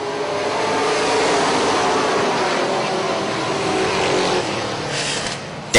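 Race cars go green at Charlotte as the field starts racing. A loud, sustained roar of engines builds and holds steady, close and dense, with a commentator faintly under it.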